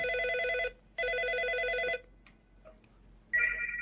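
An incoming-call telephone rings in two long electronic bursts with a short gap between them, then goes quiet before a third tone starts. It is clear and fairly close, with no talking.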